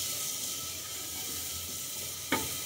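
Finely chopped tomato sizzling in a clay pot for dal tadka, a steady close hiss of frying throughout with one brief scrape or clatter near the end.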